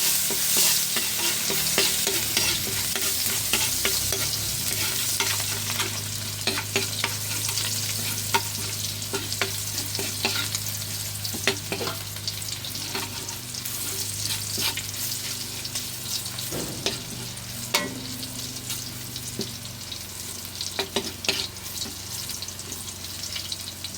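Garlic sautéing in a pan for a Filipino breakfast sopas, a steady loud sizzle with frequent scraping stir strokes and occasional clinks throughout, no voices.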